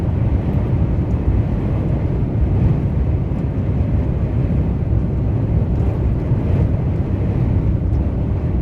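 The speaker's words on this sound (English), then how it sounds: "take in the amount of traffic on one of the busiest motorways in the country" Dense, steady roar of heavy traffic on one of the busiest motorways in the country, a continuous low rumble and tyre hiss with wind buffeting the microphone, loud and unbroken throughout with no talk.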